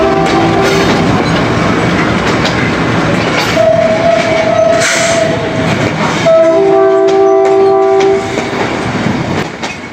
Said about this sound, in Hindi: Tezgam express 7 up arrival eight Lahore railway station from Karachi cantt.